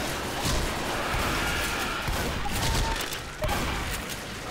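Dense, rapid gunfire in Left 4 Dead 2 rattles on in overlapping bursts from several weapons, with a sharp heavier blast near the end, loud and chaotic, mixed with muffled game noise.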